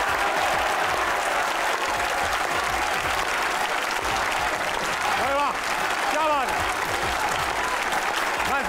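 A studio audience at a comedy talk show claps continuously, a loud, dense wall of applause that keeps going throughout, with a few whoops and cheers rising briefly near the end.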